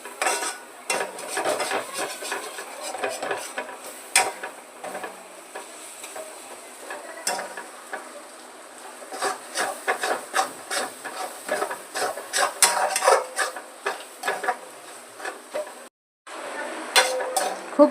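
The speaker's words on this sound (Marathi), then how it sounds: "सगळं परतून घ्यायचं" Green chilli chutney bhurji stir-fried in a pan, with dense, continuous scraping and clattering of a spatula against metal over a light sizzle, fairly close and busy throughout.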